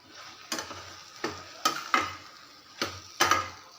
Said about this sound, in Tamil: முள்ளங்கி மசாலா கலவை வந்து உள்ளே போட்டதுக்கப்புறமா நல்லா கலக்கி விடுங்க.